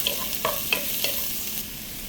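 Chopped onions sauté in hot oil in a pan for an egg roast, giving a steady close sizzle with several quick scraping stirs early on, and no talking.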